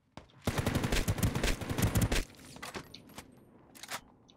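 Rapid automatic gunfire in a multiplayer shooter game, a loud dense burst lasting about two seconds, then scattered quieter shots and clatter trailing off.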